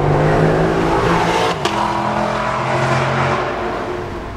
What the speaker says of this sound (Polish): motor osiąga maksymalną moc dopiero przy 7100 obrotach na minutę i brzmi wtedy tak